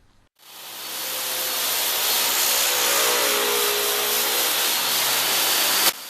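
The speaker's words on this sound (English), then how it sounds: "cut a dado on the other end" A power saw cuts a dado across the end of a long board, its motor starting abruptly and then holding a loud, steady whining roar with a faint tonal hum until it stops sharply, with no talk.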